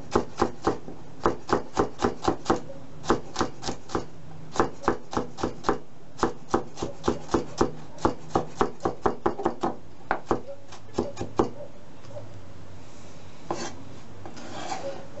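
A knife chops finely diced chili pepper, seeds removed, on a board: rapid, evenly spaced crisp taps in quick bursts, close and clear, thinning out toward the end with no talking.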